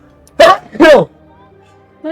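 A person sneezing in two sharp, loud bursts close to the microphone, a quick double sneeze followed by quiet.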